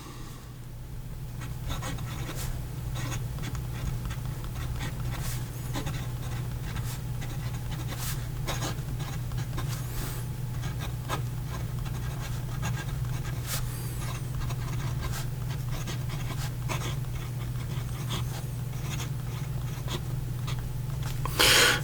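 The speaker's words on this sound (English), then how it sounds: "So here we go with a writing sample." Fine nib of a Xezo Incognito fountain pen scratching across paper in a long, steady run of small strokes with faint taps, quiet against a constant low hum.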